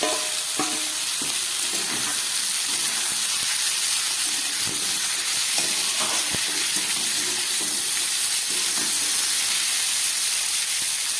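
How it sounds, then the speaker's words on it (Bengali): Beans and potato tipped into a pan of fried garlic, onion and tomato sizzle loudly and steadily, with a dense hiss and scattered stirring clicks and scrapes throughout, no talking. "এবার আমি এই সবজিগুলো এর মধ্যে দিয়ে দিচ্ছি, বিনস আর আলুটা"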